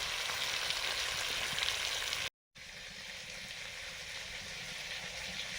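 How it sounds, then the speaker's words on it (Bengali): Fish frying in oil in an iron wok, a dense, steady close-up sizzle that drops out for a moment and then resumes just as strong. "আর লোহার কড়াতে মাছ ভাজতে খুব ভালো লাগে।"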